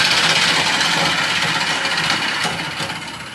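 A wood lathe running at around 1,000 revs cores a burr wood bowl, a steady loud whir with rough scraping from the cutting tool and a few sharper catches, easing off toward the end.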